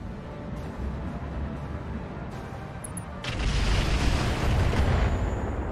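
Mech weapons firing in the Roguetech video game: low muffled booms and rumbling at first, then a loud burst of heavy blasts and crackling fire from about the middle onward, with no talking.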